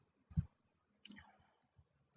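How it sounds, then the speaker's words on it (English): A computer mouse clicking a save button in a quiet room: two soft, separate clicks about three quarters of a second apart, followed by a fainter tap. "then click on save button"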